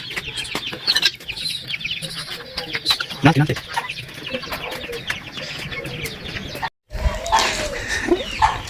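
Close-up, high-pitched cheeping from many chicks, a dense busy chorus, with a person talking briefly and a short pause near the end.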